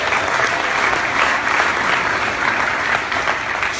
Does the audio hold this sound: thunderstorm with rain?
no